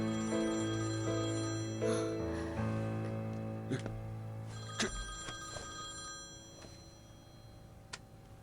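A mobile phone rings with a bright, tonal electronic melody of repeated chiming notes, fairly close and continuous, mixed with scattered ticks and taps.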